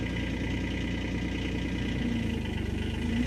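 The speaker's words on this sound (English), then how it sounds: "we're going to fire this machine up and we're going to run around and show you does everything it's supposed to do" A 2025 Kubota SCL1000 compact loader's engine runs at a steady idle, a constant low mechanical drone with even vibration and no talking.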